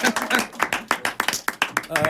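A comedy show audience claps for a saxophonist in a quick, uneven run of sharp claps, with voices mixed into the noise.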